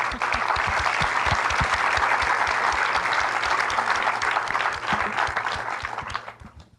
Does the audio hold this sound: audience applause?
yes